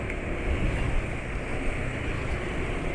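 A diesel car engine hums as the car drives, a steady, even rumble mixed with road and wind noise, continuous and close with no voices.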